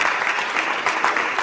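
An audience at a medical lecture breaks into steady applause, dense and continuous clapping filling the room at close range.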